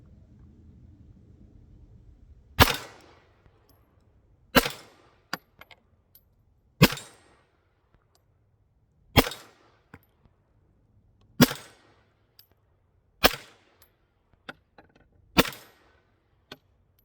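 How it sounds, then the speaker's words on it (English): A Romanian Beretta 1934 pistol fires seven sharp, loud shots at an outdoor range, spaced about two seconds apart with short ringing decays and quiet between them. "gun's off safe. It's cocked. There's a bullet in the chamber. I'm gonna try all 7 rounds."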